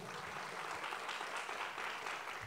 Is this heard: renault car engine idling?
no